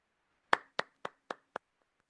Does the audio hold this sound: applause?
yes